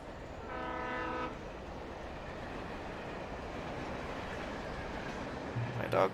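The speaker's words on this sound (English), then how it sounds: "My dog loved the damn train." A train rolls past in the Alan Wake video game, sounding a loud horn blast near the start over a steady rumble of the cars, with a brief clatter near the end.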